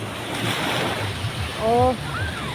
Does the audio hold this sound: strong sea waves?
yes